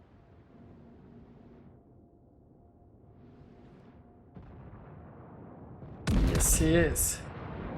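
Heavy battleship artillery fire and shell impacts in the World of Warships naval game, with the König Albert in a close battle: a loud burst of booms late in the clip after quieter rumbling, and someone speaking briefly.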